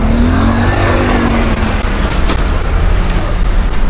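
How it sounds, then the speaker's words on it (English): Heavy street traffic at peak hours, a loud steady roar of cars and buses passing close by, continuous engine and tyre noise with no pauses. "Traffic is heavy, heavy, as I said."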